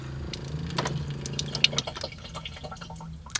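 A small electric pump runs water from a van's sink tap, with a splashing, trickling flow and a few drips, fairly close, without speech.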